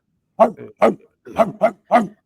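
A voice imitates a dog barking: five short, punchy bark-like bursts in quick succession, loud and close to the microphone with brief gaps between them.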